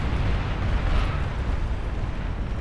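Launch of a nuclear missile in the strategy game Beyond All Reason: a steady, dense roar of rumbling noise that holds for the full stretch at even loudness, with a slight swell near the middle.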